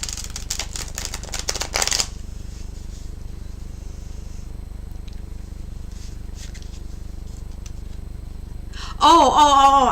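Tarot cards riffle and shuffle rapidly for about two seconds at close range, then near quiet with faint handling, before a voice-like warble at the end.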